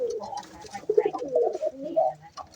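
Domestic pigeons cooing inside a pigeon house, with a steady run of low, throaty coos and soft murmurs close by. The birds keep overlapping through the short stretch, and no one speaks.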